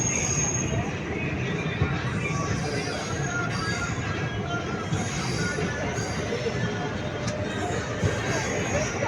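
At platform 5 of a railway station, on a Tirunelveli to Karur journey, a train gives off a continuous loud rumble with faint high wheel squeals layered on top, steady from start to finish.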